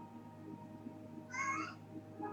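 A house cat gives a single short, faint meow midway through, set against a quiet indoor background hum.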